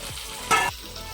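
Jackfruit and potato sauté in oil with ground cashew in a pan, a soft sizzle that swells into a brief louder burst of frying as the pieces are stirred, then settles back.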